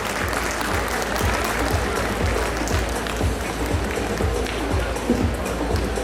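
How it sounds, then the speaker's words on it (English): A dense, steady wall of audience applause at the Resonance 2025 festival inauguration, loud and continuous for several seconds with no break. "Round of applause."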